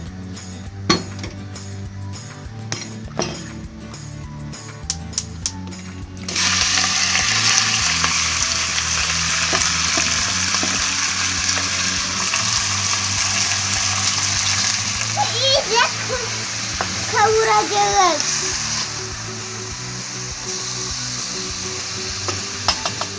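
Chicken sizzling and frying in oil in a pot, a loud steady crackle with occasional stirring clatter and brief chirpy voices in the background.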